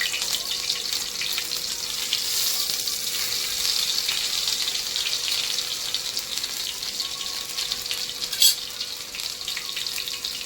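Vadas fry in a pan of hot oil in a home kitchen, a steady close hiss and bubbling sizzle that holds evenly throughout, with a brief sharper crackle near the end.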